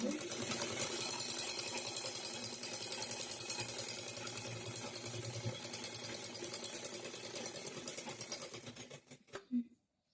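A sewing machine runs steadily for about nine seconds, stitching a cotton blouse in a rapid, even mechanical rhythm, then stops with a couple of brief clicks. No one speaks.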